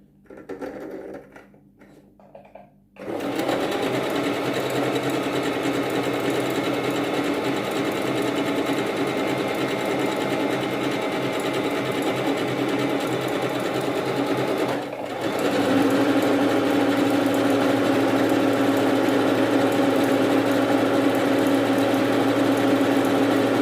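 A Singer Talent 3321 sewing machine runs a decorative stitch, its steady close mechanical whir starting after a quiet moment and continuing unbroken, with a slight shift in pitch partway through.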